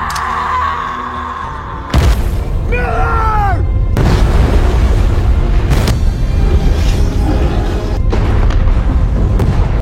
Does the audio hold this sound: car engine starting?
no